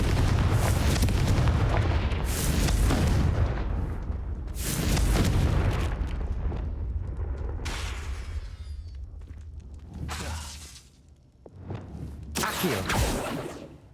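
Repeated spell blasts from Hogwarts Legacy on Nintendo Switch, loud booming explosions in several bursts with crackling tails and short quieter gaps between them.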